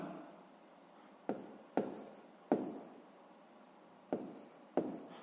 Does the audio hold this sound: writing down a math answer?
yes